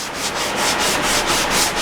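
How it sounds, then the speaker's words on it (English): Scrap wood for a rustic table is sanded in steady back-and-forth strokes, a close, loud raspy scratch pulsing roughly four times a second with no voices. "So the mandatory sanding for virtually every project"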